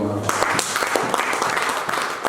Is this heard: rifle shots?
no